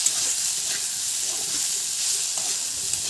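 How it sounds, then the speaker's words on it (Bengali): Potatoes and eggplant fry in oil with panch phoron, chilli and bay leaf, giving a steady, close sizzle and hiss with a few soft stirring clicks, no voices. "তেলের উপর পাঁচ ফোড়ন লঙ্কা তেজপাতা দিয়ে আলু বেগুন দিয়ে ভালোভাবে নেড়ে নিতে হবে"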